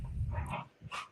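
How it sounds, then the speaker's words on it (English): A little puppy and a grown male dog scuffle over a toy, giving short whines, yips and a huffing bark up close in a brief, busy burst. "I have a little puppy and a daddy dog trying to fight over a toy."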